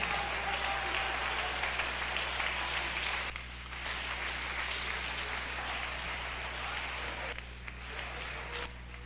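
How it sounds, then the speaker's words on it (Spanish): A church congregation at a Sunday school service applauds, a steady dense wash of clapping that dips briefly and resumes, heard over a constant low electrical hum. "Dele ese aplauso a Jesucristo en esta mañana."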